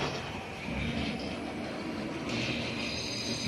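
Small 009 gauge model train running around a simple layout, a continuous whirring rumble with faint wheel squeal that swells slightly as it passes.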